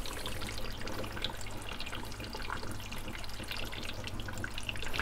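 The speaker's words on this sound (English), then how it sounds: "If you didn't get the sound of water flowing down the pipes, it means it hasn't primed." Water gurgles and trickles through the pipes of an EHEIM Ecco Pro 300 canister filter as it primes, a faint continuous flowing hiss with a low steady hum beneath it.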